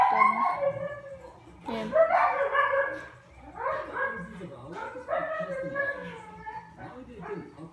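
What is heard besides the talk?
dog barking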